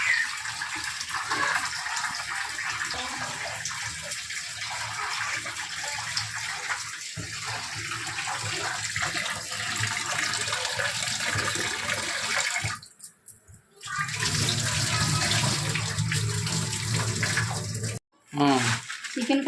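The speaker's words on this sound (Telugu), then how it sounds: "రైస్ కడుగుతున్నాను." Steady running water from a tap while rice is rinsed for a homemade biryani, a continuous loud splashing gush with a brief break near the end and faint background sounds.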